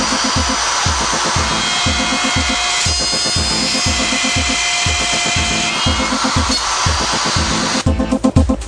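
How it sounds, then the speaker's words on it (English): A handheld router with a bearing-guided dovetail bit cuts a dovetail socket in wood along a guide; a loud, continuous motor whine with steady rhythmic cutting pulses, ending in a rougher burst. "Cut a dovetail socket by simply allowing the bearing on the router bit to follow the dovetail guide socket."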